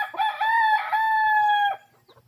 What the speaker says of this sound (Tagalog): Ang pinakamatalas sa wild chicken yan. Wild chicken.